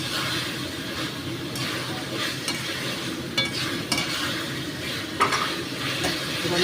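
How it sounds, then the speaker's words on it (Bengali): A spoon stirs mutton liver chorchori in a hot pan, with steady sizzling frying and a few scraping knocks against the pan, close and continuous. "এবার নাড়ছি।"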